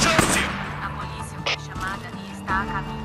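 Gunfire in the video game Days Gone, sharp shots near the start amid game dialogue and an alarm-style announcer voice, with people talking throughout.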